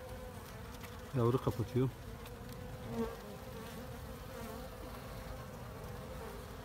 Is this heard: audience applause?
no